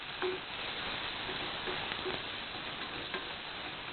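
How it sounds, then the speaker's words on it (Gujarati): Chopped onion frying in oil with cumin seeds for Punjabi dum aloo, a steady close sizzle with faint scattered crackles and ticks throughout, no voices. "ડુંગળીને એકદમ લાલ થાય એવી સાંતળવાની છે।"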